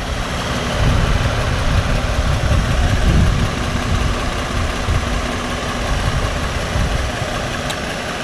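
A Ford F150 engine idles steadily after an A/C belt replacement, a loud, even low rumble with constant vibration and no speech.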